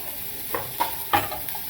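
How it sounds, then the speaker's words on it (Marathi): Onion and ginger sauté in a pan as the base for a black dry peas gravy, with three or four distinct spoon scrapes over a soft, steady sizzle. "आपण आता कांदा परतो थोडस आलं टाकू"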